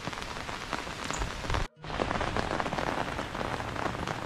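Heavy rain pours down steadily on surfaces in a rural Indonesian village, a dense, close hiss of drops that cuts out for a split second, then resumes just as strongly.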